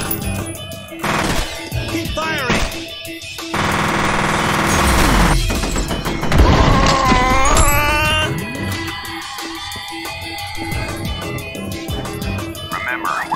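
Bursts of automatic gunfire and impacts ring out in the shooter game F.E.A.R.: Perseus Mandate, loud rapid volleys mixed with explosions and game effects, over a dense layered soundtrack.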